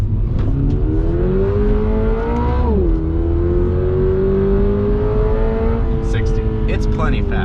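Engine of a 2022 Subaru BRZ pulls hard from inside the car, its rising drone dipping at a gear change before climbing steadily again, loud and continuous, with brief voices near the end.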